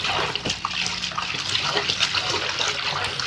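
Water is stirred with detergent by hand to whip up bubbles, giving close, continuous sloshing and splashing with irregular swishes.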